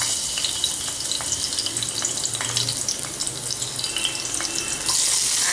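Chopped garlic sizzles in hot olive oil, a steady crackling fry with scattered pops that swells louder near the end, with no voices.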